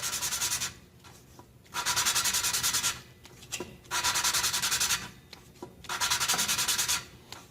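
A valve from a Toro 724 snowblower engine is lapped against its seat with grinding compound, producing rhythmic bursts of gritty rubbing with fast back-and-forth oscillation. The bursts repeat four times, separated by brief quieter pauses.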